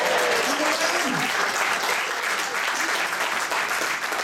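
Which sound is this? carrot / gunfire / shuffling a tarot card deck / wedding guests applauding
wedding guests applauding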